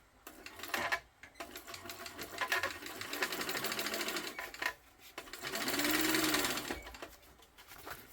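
A domestic sewing machine stitches a seam close to a zipper in loud, steady whirring runs with short pauses between bursts, no talking.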